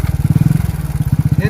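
A vehicle engine is started and put in gear on the hairpin-bend road up MM Hills. Loud, close, low-pitched chugging pulses beat in a quick, steady rhythm, with a brief dip in the middle.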